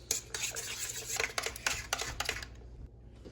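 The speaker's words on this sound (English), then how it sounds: "Now we'll add the 1 cup of wheat flour and we'll mix it." Wheat flour being mixed into a dough in a bowl for homemade Moroccan khobz bread, with brisk, irregular scraping and stirring clatter close by, ending in a quieter stretch with no talk.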